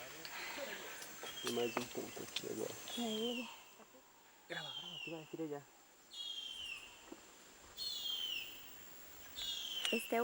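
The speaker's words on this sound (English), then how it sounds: "This is the chirp of the young bird, 5 to 11 times." Chirps of a young bird in the Brazilian jungle repeat in short bursts across about ten seconds, fairly faint, alternating with a narrator's voice talking over them.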